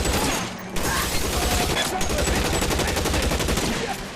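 Automatic weapon fire in an L.A. Noire police shootout, rapid bursts of loud shots packed close together, briefly broken near the start and then running continuously to the end.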